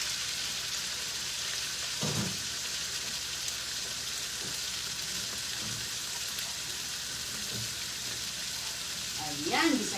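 Chicken being sautéed in a pan for pansit gisado, a steady broad sizzle running the whole time with occasional scraping stirs, and a voice speaking briefly near the end.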